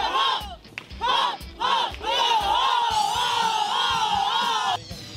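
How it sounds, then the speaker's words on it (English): Softball team at the Firecracker Softball Tournament shouting their cheer together, loud rhythmic group yells rising into sustained whooping from many voices close by. "we are about to do our cheer, which is the hump"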